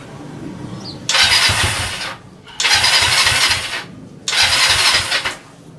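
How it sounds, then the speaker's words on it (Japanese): A Honda CB125T motorcycle cranked without the choke: three separate bursts of starter cranking, each about a second long with a short pause between, loud and close. The engine never catches. "エンジンかけてみます。 チョークは一回引かんでかけてみるか。"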